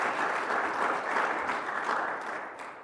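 Conference audience applauding, a soft, steady wash of clapping from a room of listeners that fades slightly toward the end.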